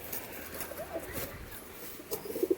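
Adult pigeons coo faintly in soft, low, scattered bursts, with a few slightly stronger coos clustered near the end over quiet background noise.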